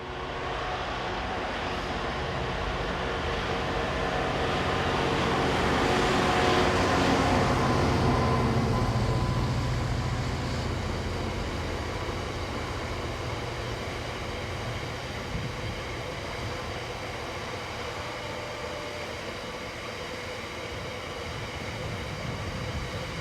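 Class 66 diesel freight train 66731 hauling a loaded working from Dowlow Quarry near Buxton toward Birmingham, a sustained engine roar and rumble that swells as it passes close, then settles into steady wagon noise.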